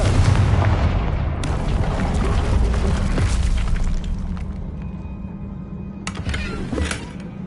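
Confringo spell explosion in Hogwarts Legacy, a loud sustained boom with rumbling debris that slowly fades, then sharp crackling impacts near the end.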